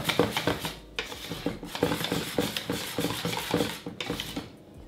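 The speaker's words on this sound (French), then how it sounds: "La première partie que nous allons mélanger énergiquement pour obtenir quelque chose de bien homogène." A speculoos chocolate mixture being beaten hard in a bowl, with rapid rhythmic scraping and clinking of a utensil against the bowl in close, repeated bursts and brief pauses.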